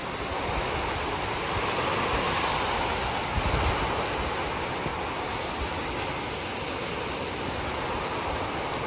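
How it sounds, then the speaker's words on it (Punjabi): Steady heavy rain hissing down onto a shed roof with a broad, windy roar behind it, continuous and enveloping with no voices. "ਹਨੇਰੀ ਵੀ ਬਹੁਤ ਆ ਰਹੀ ਹੈ ਤੇ ਮੀਂਹ ਵੀ ਬਹੁਤ ਆ ਰਿਹਾ"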